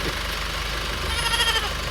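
A goat bleats in short wavering cries over a steady engine rumble, with a truck idling nearby throughout.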